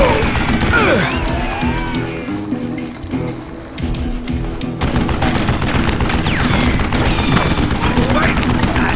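Gunshots from a video game Western shootout in Call of Juarez: Gunslinger, loud and dense volleys under a continuous busy game mix, with a brief lull around the middle before heavy firing resumes.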